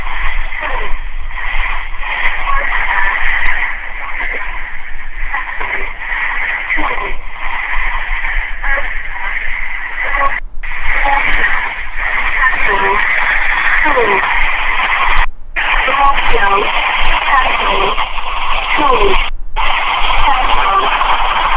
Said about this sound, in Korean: 일반 사람이 포착한 난수 방송입니다